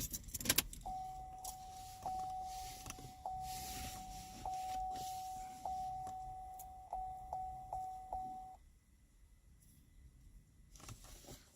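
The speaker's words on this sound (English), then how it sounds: "Let me turn the ignition on and off again." A 2013 Chevy Equinox ignition is switched on and off, with a key clicking in the lock and a repeating electronic chime beeping in an uneven rhythm for several seconds before it stops, leaving quiet cabin hum.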